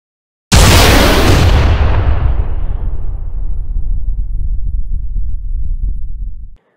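A big aerial explosion sound effect bursts in with a sharp, loud boom, then rolls into a long rumbling decay that fades over about six seconds before cutting off.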